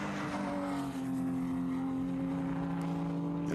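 Race cars are heard at a Labor Day road race at Summit Point, where a Porsche overtakes a BMW. A steady engine drone holds a rising tonal whine throughout, with no voices over it.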